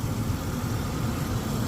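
A 1993 Ford Explorer XLT's 4.0-liter Cologne overhead-valve V6 idles steadily, a continuous low rumbling drone heard up close with no talking.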